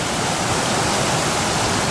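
River rapids on the French River along the Appalachian Trail, a loud, dense, continuous rush of churning water close by, steady and unbroken with no voices.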